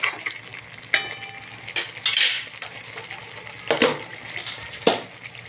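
Rice being stirred into cooked spinach in a pot, with a spoon scraping and clinking against the metal every second or so amid soft wet stirring and a low background hum.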